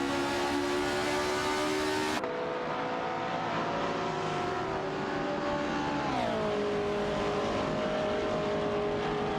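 Racing cars in a video game, including a Porsche 909 Berg Spider and an Alfa Romeo Giulia TZ, hold a steady high-pitched engine drone that shifts pitch with gear changes and throttle. The engines run continuously and loud, with no voices.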